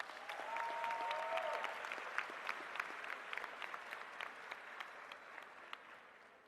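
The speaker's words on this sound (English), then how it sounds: "Please give yourself a round of applause." A graduation ceremony audience applauding, dense sustained clapping from a large crowd heard from a distance, steady at first and then thinning out over several seconds.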